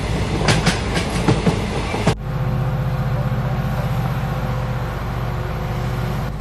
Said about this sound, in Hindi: अचानक रेलवे ट्रैक पर ट्रेन के आने की आवाज सुनाई दी।